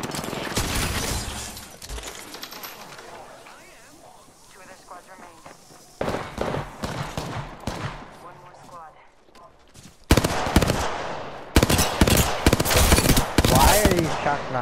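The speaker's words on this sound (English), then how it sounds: "Why are these shots not hitting him?" Gunfire from Apex Legends rattles in rapid bursts and single cracks, with loud volleys around a fight and quieter gaps between, and players talking over parts of it.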